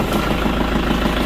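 Tractor engine, a diesel warmed by its glow plug, runs at a steady close idle, a loud continuous rumble filling the whole short stretch.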